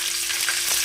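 Mustard seeds, lentils, green chillies and dried red chillies sizzle in hot oil for snake gourd poriyal, a dense, even crackle that stays loud and close, with no voices.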